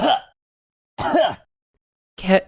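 Three short, harsh coughs spaced about a second apart, close and fairly loud, sounding like a voice performing a deliberate cough.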